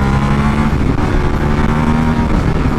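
A 2022 Ducati Multistrada V4 Pikes Peak motorcycle engine revs steadily and loudly up close, a continuous throaty drone held for a few seconds without any talk.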